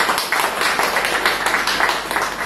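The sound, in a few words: audience applause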